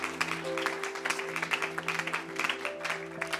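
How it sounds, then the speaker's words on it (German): An audience at a church service applauding, with scattered claps that sound fairly faint and sparse over a low steady hum, and voices mixed in. "lass uns einen Applaus geben"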